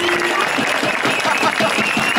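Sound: audience applause after a rap performance

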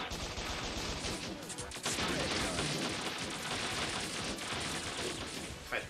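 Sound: enemy gunfire in the video game Bot Vice

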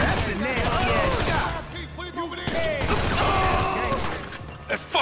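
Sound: gunfire in video game GTA 5

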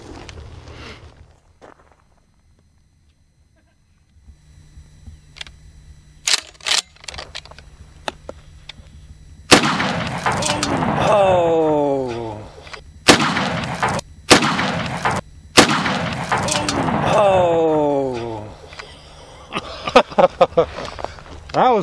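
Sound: Mossberg 590 shotgun firing low recoil buckshot

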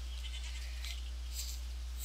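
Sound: goats bleating in Minecraft video game

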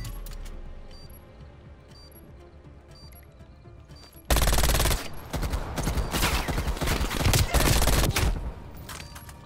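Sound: gunfire from the KS gun in Call of Duty video game

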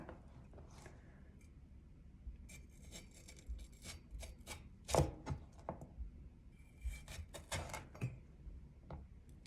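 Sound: cutting pills

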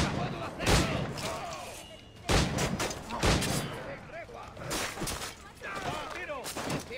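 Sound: gunfire in the video game Assassin's Creed IV: Black Flag

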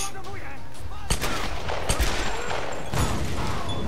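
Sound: gunfire in the video game Tomb Raider

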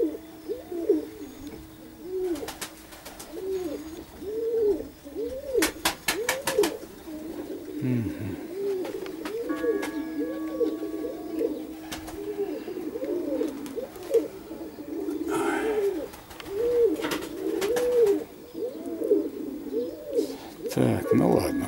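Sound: pigeons cooing

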